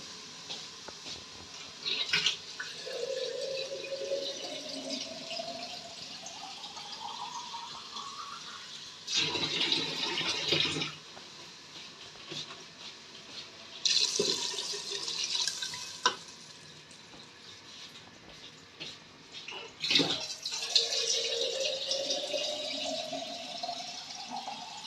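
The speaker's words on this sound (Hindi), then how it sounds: "2 लीटर पानी डालूंगी इसके अंदर मैं।" Two litres of water are poured into a cooking pot of roasted cracked wheat in several separate splashing bursts, with quieter trickling and dripping between the pours.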